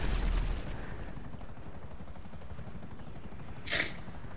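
A helicopter in a video game circles with a steady, throbbing rotor chop under a dense wash of noise, plus a short sharp burst near the end, heard without talk.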